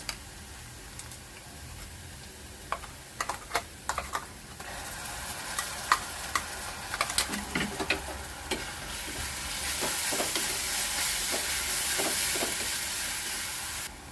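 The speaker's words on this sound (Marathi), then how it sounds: "व्यवस्थित आपल्याला परतून घ्यायचं आहे" Onion and ground masala paste with water being sautéed for a drumstick and potato bhaji over a low flame, a soft continuous sizzle with irregular clicks and scrapes of the spatula against the pan, growing slightly louder near the end.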